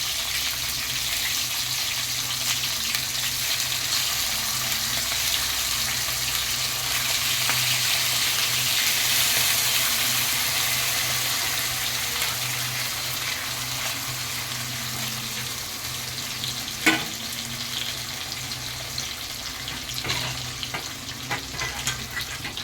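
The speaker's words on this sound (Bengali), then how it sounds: "তেলটা গরম হয়ে গেছে সামান্য একটু কালো জিরা দিয়ে দিলাম আর দিয়ে দিলাম কাঁচা লঙ্কা" Nigella seeds and green chilies frying in hot oil for a Bengali hilsa dish, a constant loud crackling sizzle with occasional utensil clinks near the end.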